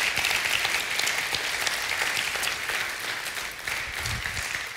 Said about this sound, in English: give them a round of applause and a thank you